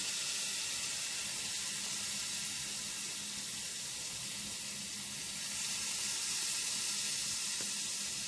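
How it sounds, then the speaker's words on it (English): Hot dogs steaming on a griddle with a little butter and water, giving a steady, close hiss and sizzle that holds evenly throughout with no talking. "steam them. Little steamy hot dog."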